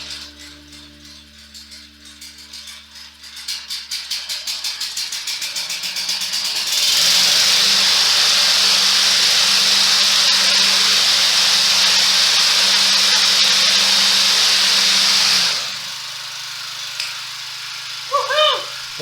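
A Briggs & Stratton 725EX engine on a Husqvarna 725BBC lawnmower rattles through a rising pull-start, then catches into a loud, steady hissing roar for about eight seconds before dropping to a quieter idle.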